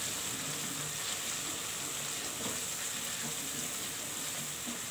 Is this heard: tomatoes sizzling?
yes